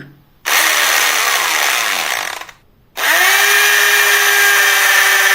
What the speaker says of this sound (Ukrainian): Вірно, це дрель